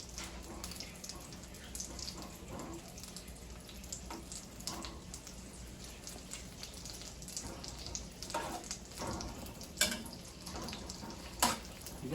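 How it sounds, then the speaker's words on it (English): Butter melting among tomatoes in a pot for homemade tomato soup, giving a steady low sizzle and watery bubbling with occasional brief clinks and stirring scrapes, fairly faint and close, without talk. "You're gonna just mix them well so that the heat will melt all the butter very good"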